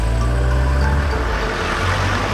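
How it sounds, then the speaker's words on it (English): Cartoon cars, dump trucks and vans rolling off a docked ferry onto the shore, a loud, continuous low engine rumble with steady motor hum that eases slightly toward the end. "The cars drive off onto the shore."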